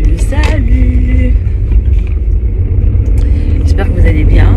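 Steady low rumble of a car interior while driving, loud and continuous, with a voice talking over it throughout.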